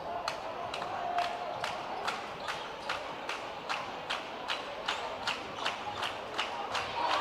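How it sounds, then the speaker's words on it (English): Blackman cheerleaders clap in a steady, evenly spaced rhythm at a prep boys basketball game against Oakland, sharp and fairly close over a murmuring gym crowd. "That clapping is from the Blackman cheerleaders calling on some D down here on this end"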